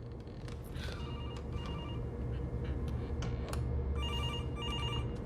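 A telephone rings steadily in a film scene, repeated electronic trill bursts over a constant low hum, with no one speaking.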